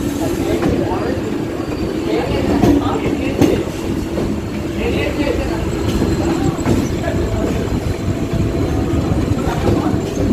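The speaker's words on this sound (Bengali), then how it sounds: "হাওড়া রক্সোল স্পেশাল।" Howrah–Raxaul Special of Indian Railways passing at night: a continuous loud rumble of wheels and carriages with rhythmic clatter over rail joints, steady throughout.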